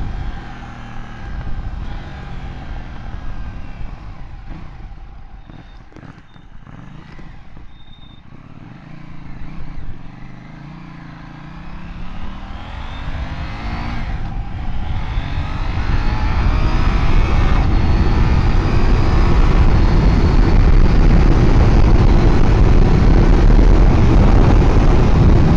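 A 2018 KTM 790 Duke engine drones under a rider on a UK test ride, its steady roar climbing as the bike speeds up and ending in loud, dense engine and wind noise.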